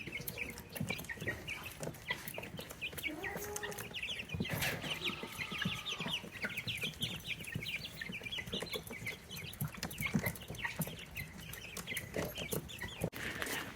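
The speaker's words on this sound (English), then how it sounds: "let's see if the big chickens have any eggs for us today" Chickens cluck continuously at close range, a busy mix of clucks and short calls over a steady outdoor background.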